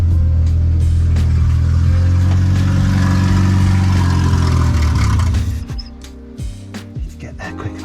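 Renault 1397cc C2J engine swapped into a Renault R8 prototype, running rough and unwilling to idle, a loud close rumbling drone that dies away near the end, leaving faint clicks and movement.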